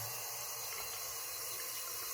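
Water runs steadily from a kitchen faucet during cleaning of its aerator, a continuous close hiss and splash with no pauses, alone without talk.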